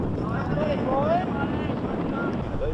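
Wind gusts across an outdoor ground during an under-16s Australian rules football grand final, a steady low buffeting rumble that runs throughout under a voice.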